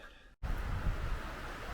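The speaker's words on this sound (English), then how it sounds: "Okay, this wind is blowing like" Strong wind blows outdoors in the mountains, a steady broadband rush buffeting the microphone, loud and close after a brief cut-out, with no voices.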